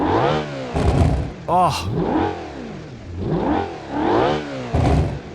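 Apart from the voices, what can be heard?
Civetta Bolide car engine revving in video game BeamNG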